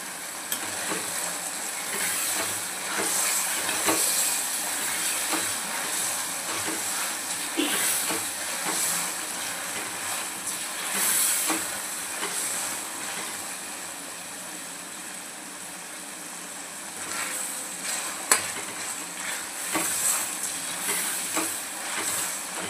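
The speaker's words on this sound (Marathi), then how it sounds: "कांदा आपल्याला छान आता गोल्डन कलरचा होईपर्यंत फ्राय करायचा आहे" Onion frying in a pan for Bihari chicken curry, with a steady hissing sizzle and occasional stirring scrapes running throughout at a moderate level.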